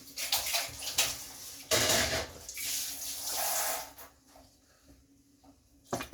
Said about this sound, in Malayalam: മീൻ വേകാനുള്ള ആവശ്യത്തിനുള്ള വെള്ളം നമുക്ക് ഒഴിക്കാമേ